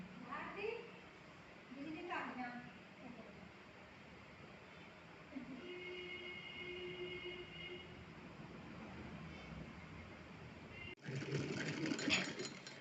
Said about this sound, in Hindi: तो इसी तरह से हम एक सिलाई इस पर नीचे लगा लेंगे प्लेट्स को अच्छे से सेट करते हुए